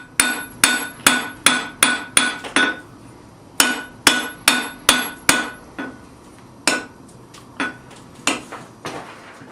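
Heavy hammer blows ring out on a hot steel bar being forged, a quick steady run of about a dozen strikes, then a pause and several slower, spaced blows.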